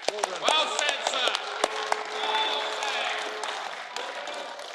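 Applause breaks out from the public gallery of a European Parliament chamber during a debate on the future of Europe, a sustained patter of clapping with scattered voices and murmurs mixed in.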